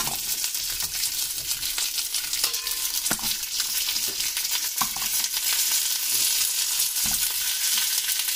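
Dried red chillies, tamarind and small crab apples sizzling in hot oil in a pan for pickle, a continuous loud frying crackle with occasional sharper pops and stirring knocks.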